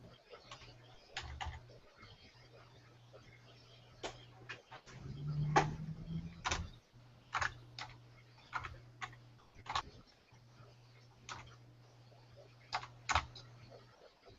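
Typing on a computer keyboard while entering a search for stock images: irregular, close keystroke clicks in short bursts over a low steady hum, with no talk.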